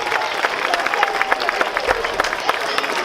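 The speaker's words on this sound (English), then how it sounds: "Why don't you give your children a round of applause," Audience applause for children at a school spring concert, steady dense clapping from a crowd that fills the whole stretch, with some cheering mixed in.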